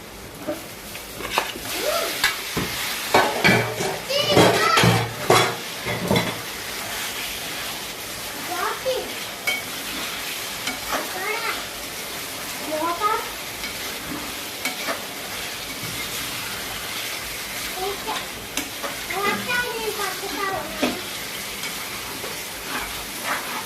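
Onions and ginger garlic paste frying in hot oil for a karjam kandanakaya meat curry, a steady sizzle broken by clattering stirs, while a voice talks over the cooking throughout.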